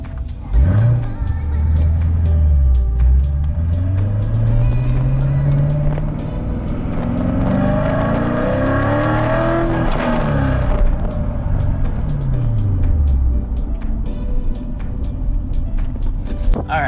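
Corvette engine with a newly installed mod, revved repeatedly so the pitch rises and falls in loud swells over a steady idle rumble, heard up close with clicking in the background.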